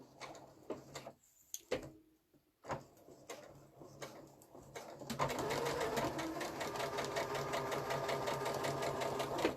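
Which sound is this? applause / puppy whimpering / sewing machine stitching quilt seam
sewing machine stitching quilt seam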